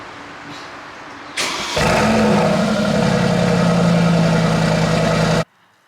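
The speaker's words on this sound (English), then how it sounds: "But first of all, let's start up the G-Wagon" A Mercedes G63 G-Wagon fires up close by with a loud cranking burst. It settles into a steady, rumbling idle, then cuts off abruptly.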